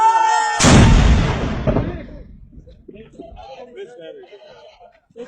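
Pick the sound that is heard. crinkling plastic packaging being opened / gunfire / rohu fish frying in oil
gunfire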